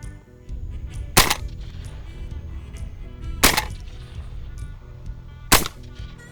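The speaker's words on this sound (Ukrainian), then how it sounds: "Стріляю. Вогонь!" Three loud, sharp blasts from a smoothbore shotgun fired at a drone ring out, spaced about two seconds apart, over a low background hum.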